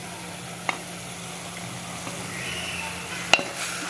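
Red amaranth leaf sabzi with fried potatoes being stirred in a pan under a soft, steady sizzle, with a couple of sharp utensil taps against the pan.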